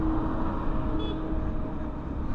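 Night intercity bus on a busy Pantura highway through a town, heard as a steady loud roar of road traffic with engine rumble and tire noise, continuous throughout without speech.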